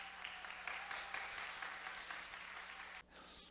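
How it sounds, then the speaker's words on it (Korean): A church congregation at a Sunday service applauds in celebration, a dense, sustained patter of many hands clapping that briefly drops off near the end before resuming, heard at a modest distance. "우리 크게 축하의 박수 한번 하면 좋겠습니다"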